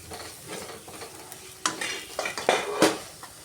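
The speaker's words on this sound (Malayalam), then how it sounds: "നല്ലതുപോലെ ഇളക്കി ചേർത്ത് കൊടുക്കണം" Chili powder and crushed green fennel being stirred in a hot pan for an egg roast, gentle sizzling broken by several scraping strokes and sharp clinks of a spoon against the pan.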